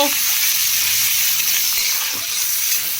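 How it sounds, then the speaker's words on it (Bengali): Whole spices, bay leaf, salt and turmeric stirred in hot oil in a frying pan for pumpkin chhokka, a steady close sizzle with light scraping from the stirring and no talk. "তেজপাতা সল্ট ইয়েলো পাউডার এবার আমি এটা ভালো করে নেড়ে চেড়ে নেবো"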